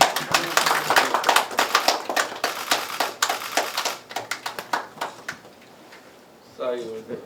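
Guests at an MOU signing ceremony for a Cyworld metaverse platform clapping in a small room, close, distinct claps that thin out after a few seconds, then a brief voice near the end.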